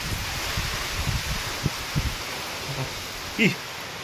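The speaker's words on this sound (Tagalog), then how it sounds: "Ang lakas ng hangin." Steady strong wind roaring and buffeting outdoors around a hut during a rain and wind storm, rustling through leaves, with a few faint knocks and a brief voice-like sound near the end.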